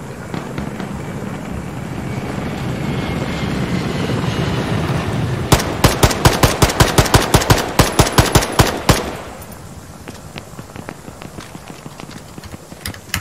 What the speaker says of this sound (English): Is that the attack helicopter again?